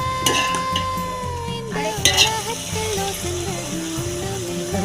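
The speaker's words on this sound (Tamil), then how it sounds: "வெங்காயம், பட்டை, கிராம்பு, பச்சை மிளகாலாம் வதங்கிச்சா?" Onions, cinnamon, cloves and green chilies sauté for biryani rice, a steady close sizzle with a spoon stirring and scraping the pan, metal clinks, and a faint tonal sound over it.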